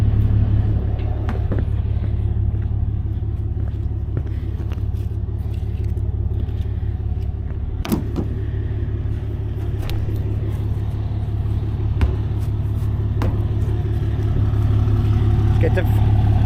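Skid steer engine running with a loud, steady low rumble throughout, joined by occasional metallic clanks and knocks nearby.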